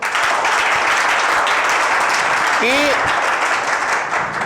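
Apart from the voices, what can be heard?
audience applause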